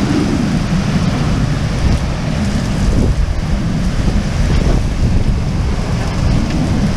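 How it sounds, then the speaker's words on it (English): Monsoon microburst storm over Casa Grande, Arizona: a steady, loud roar of wind-driven rain with deep rumbling thunder and gusty low-end buffeting throughout, no voices. "this is our first real monsoon coming through"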